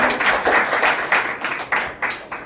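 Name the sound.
audience applause for the speaker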